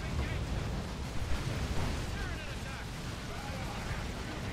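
A tank's heavy explosive shell lands in a Dawn of War 2: Retribution 2v2 battle, a deep rumbling boom folded into constant roaring combat noise, with a commentator talking over it.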